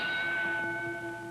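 Boxing ring bell between rounds in the Rocky Marciano vs Joe Louis fight: a single sustained metallic ring with steady overtones that slowly decays, heard in an old broadcast recording.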